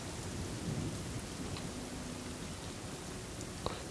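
Rain and thunder in the survival video game The Forest: a steady, moderately quiet hiss of rainfall with a low rumble and a brief sharp crack near the end, no talking.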